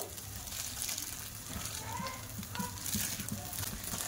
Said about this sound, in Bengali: তেলটা গরম হয়ে গেছে, এবার আমি কিছুটা মটরশুঁটি ছাড়িয়ে রেখেছিলাম, মটরশুঁটি দিয়ে দেব।